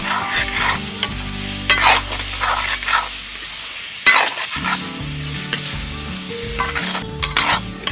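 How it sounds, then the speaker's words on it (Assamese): Mushrooms sizzle in hot spiced oil in a pan, a steady loud frying hiss broken by repeated scrapes and clatters of stirring, with no talk. "এতিয়া মাছৰুমখিনি অলপ টাইম ভাজি ল'ম।"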